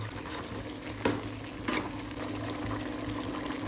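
Vegetables for sambar boiling in water in a pot, a soft continuous bubbling hiss at low level with a couple of brief clinks, no talk.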